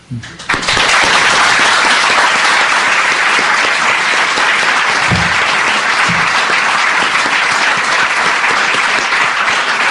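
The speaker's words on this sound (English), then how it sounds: "Keep clapping." A large audience claps loudly and steadily in sustained, dense applause after Noam Chomsky's lecture in Oslo, the crowd noise continuous and full for the whole stretch, with brief voices faintly under it.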